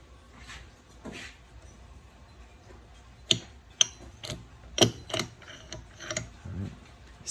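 Transmission gears on a Honda CR125 five-speed being fitted by hand, giving a run of sharp metallic clicks and ratcheting ticks, some loud and close, scattered irregularly over low background noise.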